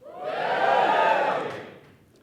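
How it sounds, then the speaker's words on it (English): A comedy club audience gives a short cheer from a crowd of many voices. It swells and fades over about two seconds and is heard on its own. "Give us a cheer if you've got siblings"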